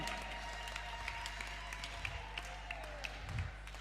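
A church congregation at a mothers' convention applauds steadily, a dense continuous wash of clapping with a few louder bursts near the end.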